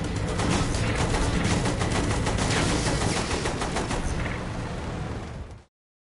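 Sustained machine gun fire in the video game Saints Row 3 Remastered, a loud continuous rapid stream of shots lasting over five seconds before cutting off abruptly, no talking.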